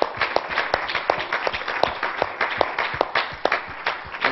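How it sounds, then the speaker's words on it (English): A church congregation claps steadily for several seconds, a dense patter of many hands with a few sharper individual claps standing out. "Can we give Him another hand clap of praise?"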